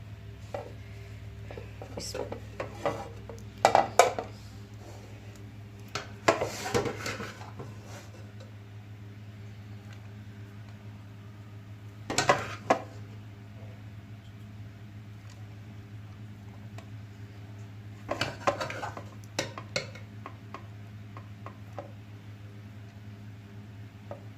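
Dishes and utensils clatter and scrape in a home kitchen while vegetable rice is served out, coming in a few sparse bursts over a steady low hum. No talking.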